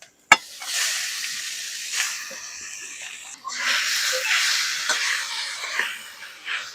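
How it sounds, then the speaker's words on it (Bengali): Grated vegetables hit hot oil and spices with a sharp crackle, then settle into a steady, close sizzle with occasional stirring scrapes throughout. "এবার গ্রেট করে রাখা সবজিগুলো দিয়ে দিচ্ছি"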